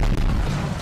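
A car blows up in the video game GTA, a short, heavy, booming blast with a deep rumble that fills the whole moment, loud and with no talk over it.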